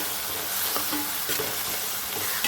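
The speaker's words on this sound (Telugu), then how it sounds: "ఇవి కొంచెం మగ్గే వరకు ఫ్రై చేసుకున్నాను" Onions and tomatoes frying in a pan, a close continuous sizzle with soft stirring scrapes.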